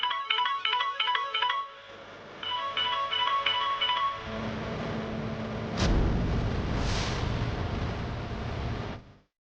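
A mobile phone ringtone for an incoming call chimes in two short bursts of repeating electronic beeps, then gives way to a loud rumbling whoosh that fades out.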